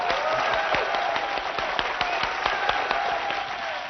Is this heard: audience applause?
yes